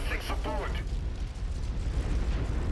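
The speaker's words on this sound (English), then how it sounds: "Ammo explosion going off." An ammunition explosion from a destroyed mech in MechWarrior 5 erupts in a loud, rumbling burst with crackling pops, followed by a continuous low roar of battle noise.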